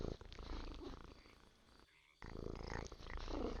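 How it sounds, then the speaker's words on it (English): A cat purrs loudly and close by in a steady, rhythmic rumble that runs almost continuously, with one brief pause midway. "He purrs pretty loud."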